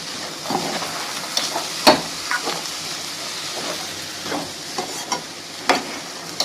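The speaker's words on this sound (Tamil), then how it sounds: "கிளறி விட்டுக்கோங்க" Red cowpea masala being stirred in a pan, a steady sizzle broken by irregular scraping strokes of the spoon, close and moderately loud, with no talking.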